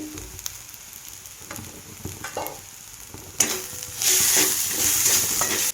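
Green chili and garlic paste with turmeric frying in a pan, quiet stirring and clinks at first, then a loud, steady sizzle bursting up and holding close at hand.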